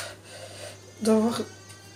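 A voice makes a short, fairly close vocal sound, then the room goes quiet again with a low steady hum underneath.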